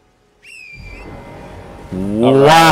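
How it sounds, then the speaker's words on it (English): Two whistles in the Elden Ring video game, each a high steady tone lasting about half a second, the first alone and the second rising more loudly at the end over background game noise. "Did you hear the double whistle?"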